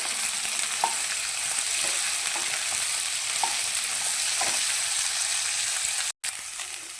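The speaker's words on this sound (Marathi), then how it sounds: "तेल गरम झालेलं आहे, भेंडी टाकून घेऊया. या भेंडीला ना बारीक गॅसवरती एकदम 10 मिनिटं फ्राय करून घेऊया." Okra fries in hot oil over a low gas flame, a soft, continuous sizzle with a few light clinks of a utensil, steady and close before a brief cutout near the end.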